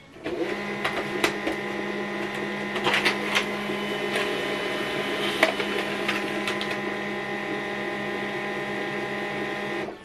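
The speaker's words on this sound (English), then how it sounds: "Here we go, it's already printing it out." An HP LaserJet Pro M15w laser printer runs a print job, giving a steady mechanical whir with clicks and paper-feed clatter, close and alone for about ten seconds.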